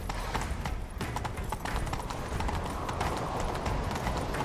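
Rapid hoofbeats of a galloping horse in The Witcher 3: Wild Hunt pound steadily throughout, loud and close, with a dense rumbling background.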